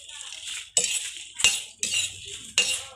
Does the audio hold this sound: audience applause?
no